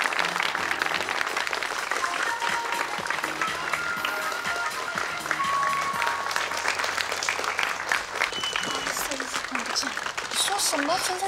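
An audience at a fashion show gives the designer warm applause, a sustained, dense clapping that runs throughout, with voices and music beneath it.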